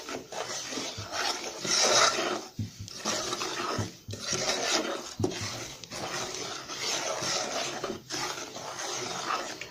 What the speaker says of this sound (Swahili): Koroga vizuri huo mchanganyiko wako mpaka vitu vyote vijizovu.